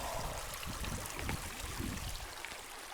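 A fast-running stretch of stream at the edge of a forest in the Cheviot Hills burbles and trickles close by, soft and continuous with small gurgling bursts.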